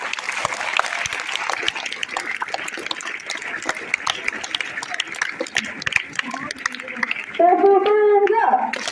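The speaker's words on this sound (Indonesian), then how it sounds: "Mari kita diapresiasi dengan tepuk tangan." Applause from an audience at a school ceremony, a steady patter of many hands clapping throughout, with a voice speaking over it near the end.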